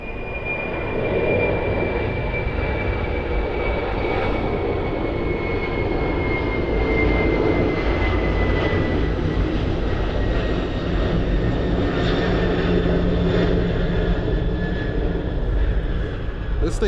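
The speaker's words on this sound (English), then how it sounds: "Here she comes. KLM 747." A KLM Boeing 747 comes in to land at Miami, its jet engines roaring loud and steady with a whining tone that slowly falls in pitch, and a person speaks over the noise.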